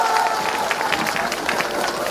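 A crowd at an outdoor political election rally in Mokpo applauds to welcome a speaker, a steady, dense wash of clapping and cheering that fills the whole moment without pause.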